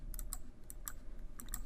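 Computer keyboard keys are pressed in a short, quick run of light clicks, close and fairly quiet against a low background hum, with no speech.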